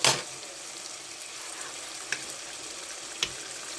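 Ginger and garlic frying with meat in a pan for a South Indian boti curry, a low steady sizzle with a few brief clinks of stirring and no talk.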